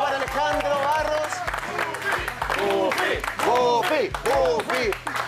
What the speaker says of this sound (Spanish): Un fuerte aplauso para Alejandro Barros.